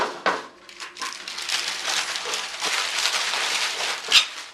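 A paper liner from a sun conure and cockatiel cage is crumpled and rolled up: close, loud crinkling and crushing rustles in uneven bursts, with a sharper crackle near the end and no speech.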